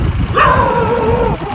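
A street dog gives one drawn-out, whining yelp close by, lasting about a second over low background noise.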